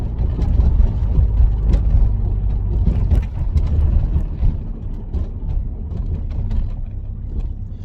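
A car engine drones with a deep, throaty exhaust rumble through a Mongoose catback exhaust, steady and fairly loud throughout with slight rises and falls in revs.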